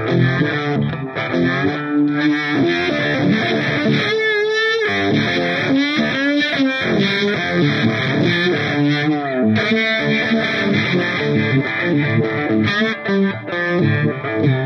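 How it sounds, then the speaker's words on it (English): An electric guitar runs through an overdrive pedal and plays continuously, thick and gritty, with dense strummed chords and a short bending lead figure, loud and alone. "We back it off a little bit, so it's more of like an overdrive vibe."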